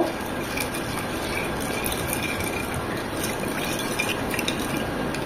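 Beet juice being stirred with sugar and black salt, a steady wet swishing and churning of liquid that carries on evenly throughout, fairly close and with no voices.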